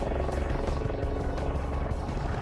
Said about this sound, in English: helicopter doesn't fly. It beats the air into submission.